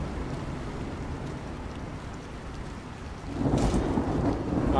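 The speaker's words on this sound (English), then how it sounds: "What is it with this game and storms?" A thunderstorm with steady rain in the video game Cityconomy: a constant broadband hiss of rainfall, swelling into a louder rumble of thunder near the end, with no voices.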